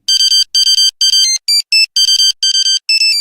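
Nokia William Tell ringtone playing loud and close, a quick run of bright electronic beeping notes in short bursts with brief gaps, no voices.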